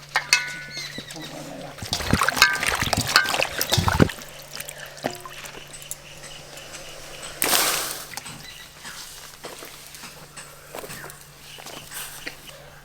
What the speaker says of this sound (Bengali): এঁচড় কাটার পরে ভালো করে ধুয়ে নিতে হবে।